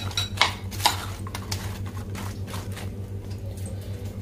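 A spoon stirs cream and gravy through pieces of soya chaap in a pan, giving a few sharp clinks against the metal early on, then soft, steady scraping and mixing with no voices.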